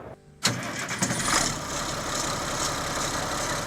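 Classic Allis-Chalmers D21 tractor engine in northeastern Illinois cranking and catching after a brief quiet moment, then settling into a steady, fairly loud idle.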